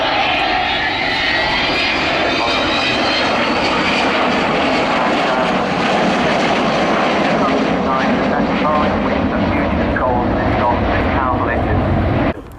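An Avro Vulcan bomber flying at the Waddington air display, its engines giving a loud, continuous roar that holds steady before cutting off abruptly at the end.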